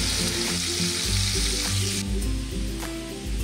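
Oil sizzles and crackles steadily as lapu-lapu (grouper) fish fries in a pan, with a low background hum and occasional sharper pops.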